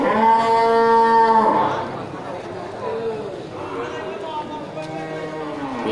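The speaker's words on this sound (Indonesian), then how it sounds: "ini satu ekor sapi Aceh bunting ya" A pregnant Aceh cow lows in a long, loud moo for the first couple of seconds, then a second fainter moo follows near the end, with a low hum of other noise in between.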